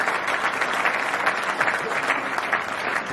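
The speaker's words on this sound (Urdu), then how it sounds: "کھڑے ہو کر تالیاں بجائے اور کھڑے ہو کر ویلکم کریں" Steady, dense applause from a large seated audience rising to welcome a guest at a gathering, continuous and loud throughout without a break.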